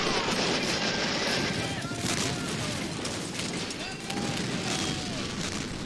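Dense, sustained battle din of gunfire and artillery from the Men of War Assault Squad 2 video game, steady loud crackle and booms filling the whole stretch without pause.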